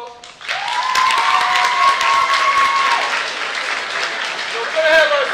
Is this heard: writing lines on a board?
no